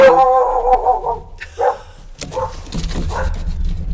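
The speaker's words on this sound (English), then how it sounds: "Hi, puppies. They had to make themselves known." Several dogs bark and yip in short, loud bursts close by, with a low steady hum beneath and a few brief whimper-like sounds in between.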